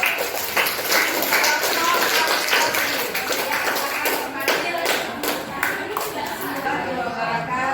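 Group of people clapping their hands in an indoor classroom or workshop setting, a fairly close, steady patter of claps with some murmured voices mixed in.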